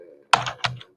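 A few sharp, close keystroke clacks on a computer keyboard in quick bursts, separated by brief pauses.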